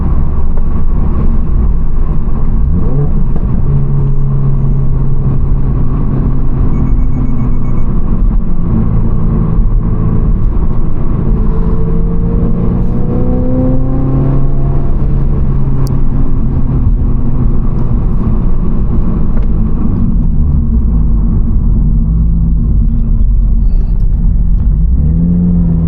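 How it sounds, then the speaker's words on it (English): A Toyota GR86 or Subaru BRZ fitted with an AWE Touring exhaust drives along with a loud, steady engine drone and rising and falling rev sweeps, with no distinct pops standing out. "you can get some burbles and pops with this exhaust if you do the downshifts just right with the rev match"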